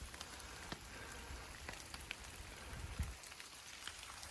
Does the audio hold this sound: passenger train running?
no